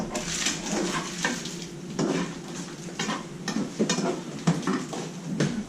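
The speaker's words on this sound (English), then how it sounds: "you just stir it up and then you don't have to cover it, just leave it like that" Food stirred in a cooking pot, a spoon scraping and clinking against the pot in steady repeated strokes over a soft sizzle, close and fairly loud with no talking.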